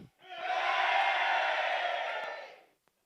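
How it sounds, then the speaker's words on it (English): A crowd of people from the south cheers together at a briefing, a loud sustained roar of voices and whoops that swells quickly, holds for about two seconds, then fades out. "give us a cheer."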